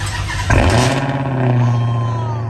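A Dodge Hellcat engine cranks and fires at about half a second, then settles into a loud, steady low rumble with a brief rev swell, heard close up.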